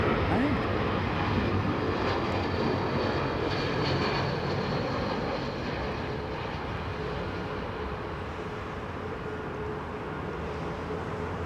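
An airliner approaching London Heathrow and going around, a continuous loud engine roar fading gradually, with people talking under it.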